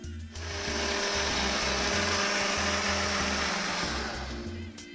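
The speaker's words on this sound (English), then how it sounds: "And then we're gonna blend this all together." Blender whirring through a wasabi batter mixture, starting up sharply, running loud and steady with pulsing motor tones and slight pitch shifts, then winding down near the end.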